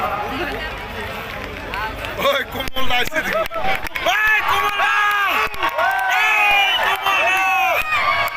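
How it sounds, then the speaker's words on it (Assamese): At a live comedy show in Assam, an audience cheers and whoops with scattered clapping for the comedians, loud crowd noise rising after a couple of seconds and swelling under excited voices. "এটা হাত চাপৰিৰে তেখেতকো অলপ উৎসাহ জনাওক"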